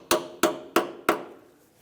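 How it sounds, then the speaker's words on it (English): Four evenly spaced light hammer taps on a metal U-clip seating a brake hose onto its bracket on a 2007-2013 Acura MDX, crisp and close, each ringing briefly before fading into quiet. "A couple light taps to ensure that it's properly secured"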